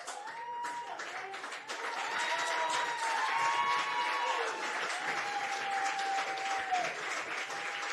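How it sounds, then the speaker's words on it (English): Steady crowd applause at a girls high school soccer game, Santiam Christian versus St. Mary's, a dense wash of clapping from a distance that holds for several seconds with a faint voice underneath. "As a round of applause rings out"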